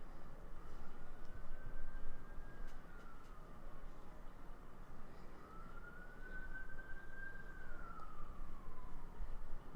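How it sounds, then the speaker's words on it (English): A distant siren wails slowly up and down, faint beneath a steady broadband hum of room or traffic noise. "It was like sirens, but it's just outside my house."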